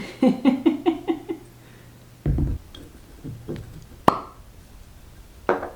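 A massive wooden cork is pulled from a bottle of 3 SQ Miles Irish Coastal Gin, giving a single sharp pop close up, with soft handling noises before and after.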